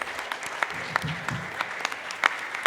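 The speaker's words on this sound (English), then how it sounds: "Let's have a huge round of applause for them first." A conference audience applauds in a hall, the clapping soft and fairly distant, with scattered sharper claps standing out.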